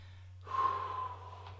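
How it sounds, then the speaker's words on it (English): One slow, controlled breath during box breathing, a soft airy inhale or exhale rising after a quiet start and easing off, heard close and faint over a low steady hum. "Inhale for 4. Hold for 4 seconds. Exhale for 4."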